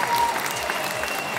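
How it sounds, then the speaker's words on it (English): Brief burst of audience applause at a tattoo convention in Rotterdam, a steady patter of many hands clapping with no voices over it. "Get a big applause for the audience."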